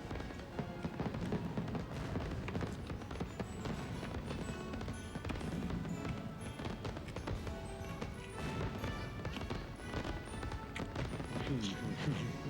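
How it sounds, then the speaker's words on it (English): Fireworks crackle and pop repeatedly at moderate distance, dense bursts and bangs mixed with people talking over them. "I'm gonna make my own fireworks"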